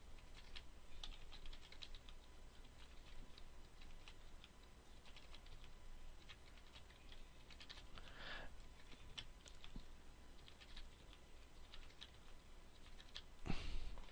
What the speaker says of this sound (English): I'm just going to go ahead and type in some values now.